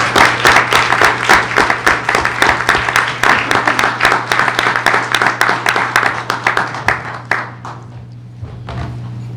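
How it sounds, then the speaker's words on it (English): Applause for students at a school board meeting: loud, close clapping from a small group with distinct individual claps, tapering off after several seconds into quieter room noise. "Let's give these students a round of applause."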